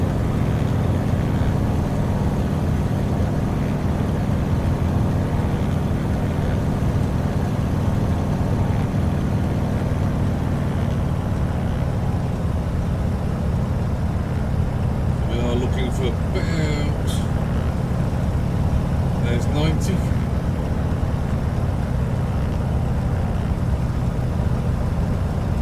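Carenado tail-wheel aircraft flying over Duxford in a flight simulator, approaching at about 80 mph: a steady, loud engine drone holds throughout, with talking over it and a few brief clicks near the end.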